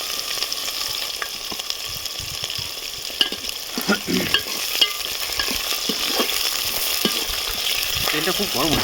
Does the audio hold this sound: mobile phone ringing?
no